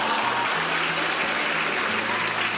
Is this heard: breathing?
no